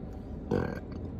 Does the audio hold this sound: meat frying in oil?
no